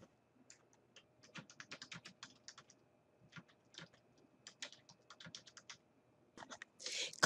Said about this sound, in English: In the add comment box, type in your message